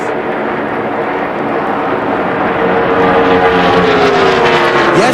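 NASCAR Winston Cup stock cars race at Michigan International Speedway, a loud dense engine roar building as cars close in, with a rising whine of a passing car near the end and no talk.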